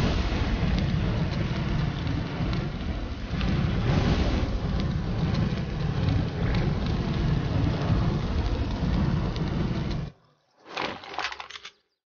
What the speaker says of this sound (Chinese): 下这么大雨还在外面，不怕把你浇灭了？